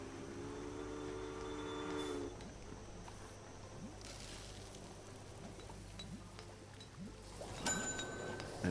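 A passenger train in the Railway Empire game rumbles along steadily, with a low rolling drone and a brief bright horn-like tone near the end.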